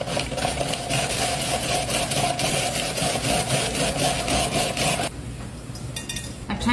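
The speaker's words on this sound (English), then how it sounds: "so let's julienne some carrots" An electric kitchen gadget with a julienne blade cuts carrots in a continuous loud whirring, rasping grind for about five seconds, then stops, leaving quieter faint mechanical sounds.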